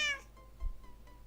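A short, high cat meow from a Minecraft hide-and-seek mini-game, with a bright electronic tone, followed by a faint thump and quiet background hum.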